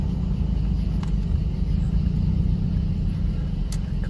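A 2004 Toyota Camry with a swapped transmission rolls onto a highway, a steady low rumbling engine and road drone heard from inside the cabin, continuous and unbroken, with no talking.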